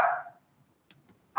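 A small female dog gives a short, close bark at the start, followed by near silence with faint rustles and then another sharp bark cut off at the end.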